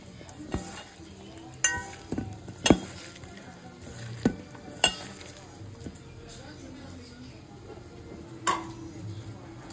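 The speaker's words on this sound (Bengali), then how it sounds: "এখন দিয়ে দিলাম বেগুনটা, আলু, সুন্দর করে মাখিয়ে নিতে হবে।" Eggplant and potato being mixed in a pan with chilli, tomato and onion, giving a soft sizzle with scattered sharp clinks of a utensil against the pan and occasional scraping stirs, fairly quiet and close.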